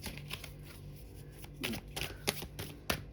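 Tarot cards being shuffled by hand in a series of soft, papery riffles and flicks, close and fairly quiet over low background hum.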